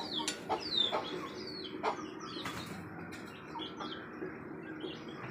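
Hens cluck and squawk in a backyard bird coop, with scattered near calls, a few wing flaps and thin chirps over a quiet, steady background.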